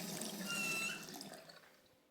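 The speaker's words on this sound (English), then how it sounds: "Then you see the water streaming out of the tap." Water streams from a tap in the video game Rue Valley, a steady soft splashing flow that fades out toward the end, heard alone.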